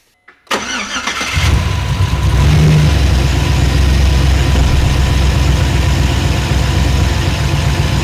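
A 5.3L Silverado V8 fitted with a Texas Speed Chopacabra cam and DOD delete cranks briefly, fires, then settles into a loud, choppy, lumpy idle that carries on alone.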